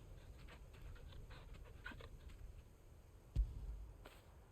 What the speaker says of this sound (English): I'm gonna pet the dog.